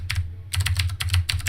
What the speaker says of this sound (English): Wow, good typing.